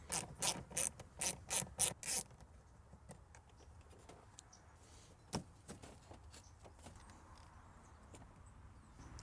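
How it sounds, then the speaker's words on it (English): Ratchet loosening 8mm bolts on a Mercedes ML350 W166, a quick burst of about eight close clicks at the start, then quiet rubbing and handling noises with a few sparse ticks. "I'll remove several 8mm bolts."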